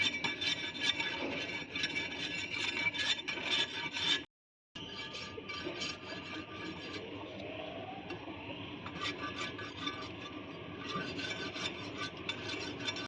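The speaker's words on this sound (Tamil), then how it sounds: "தோல் செதுக்கி எடுத்துக்கலாம்." Scraping the skin off a coconut makes a continuous, close rasping scrape, steady and rough, with one brief silent gap partway through and no speech.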